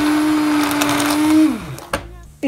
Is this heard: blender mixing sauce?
yes